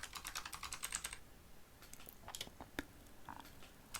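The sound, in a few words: typing on a computer keyboard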